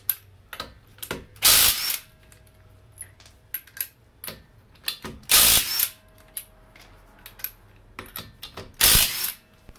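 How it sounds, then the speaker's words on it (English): An impact wrench removes spline lug nuts from a 2011-2016 Chevy Impala during a brake job, giving three loud, rapid hammering bursts about 3.5 seconds apart, with clicks and clanks of handling in between. "Boom, it just makes short work of these lug nuts."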